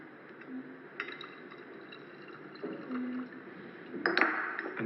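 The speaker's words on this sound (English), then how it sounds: "Then chlorine water into potassium bromide." A quiet pour of chlorine water into a glass flask holding potassium bromide solution, heard as soft liquid splashing and a light glassy clink, louder toward the end, with no voices.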